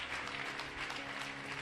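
A church congregation applauds during a French-language sermon on forgiveness. The clapping is steady and dense, heard from a moderate distance without pauses, and no one speaks over it.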